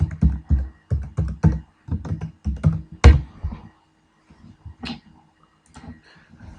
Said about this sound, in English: So you can type in your password there, all lowercase.